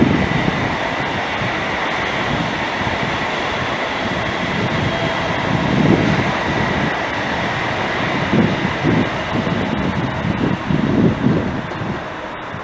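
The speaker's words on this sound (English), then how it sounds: "That'll be an Edinburgh train there heading downhill into Queen Street down the Cowlairs incline." An electric passenger train rolls past at a distance downhill on the Cowlairs incline toward Glasgow Queen Street, a steady rumbling roar with rhythmic wheel thumps swelling and fading, with some wind noise.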